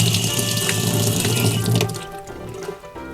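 A strong tap runs close by, water rushing over a metal piece to rinse off etching powder, loud and continuous before easing slightly toward the end.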